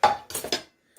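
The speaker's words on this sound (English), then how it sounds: "And you want to stir it in real good." Spoon clinks and scrapes against a pot as onions and mushrooms are stirred into coq au vin sauce, three or four short knocks within a second, then quiet.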